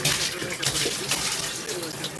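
Water runs and splashes steadily inside a glass wine carboy being rinsed with hot, warm and then cold water during home winemaking, a continuous close hiss with faint talk underneath.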